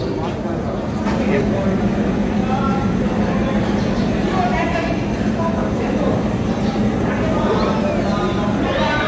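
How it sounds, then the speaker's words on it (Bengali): A Chandannagar Intercity passenger train runs on with a steady rumbling roar and rattling, heard from inside as a constant close drone, with people talking over it at times. "আমাদের এই ট্রেন চন্দননগর ইন্টারসিটি"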